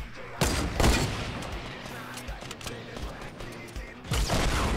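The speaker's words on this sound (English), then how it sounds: "Shooting rockets." Rockets fired in the Fortnite battle royale game: sharp, loud launch bursts and booms at the start and end, with scattered gunfire and mechanical game noise between.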